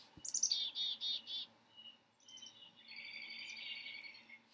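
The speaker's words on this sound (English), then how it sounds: "this is the chickadee." Chickadee calling outdoors along a marsh trail, a quick series of high, thin whistled notes followed by a fainter, buzzy call over soft insect hum, at moderate distance and without any talking.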